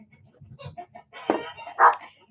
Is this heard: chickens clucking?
yes